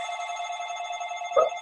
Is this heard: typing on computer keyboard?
no